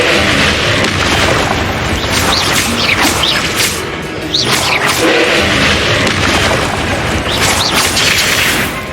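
Booming fiery blasts from the Confringo spell in Hogwarts Legacy, loud, dense and continuous, with whooshing streaks and crashes layered over a heavy rumble of combat.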